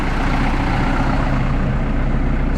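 A Landini tractor engine runs steadily at idle, a continuous low diesel rumble that stays loud and close for the whole stretch with no talk over it.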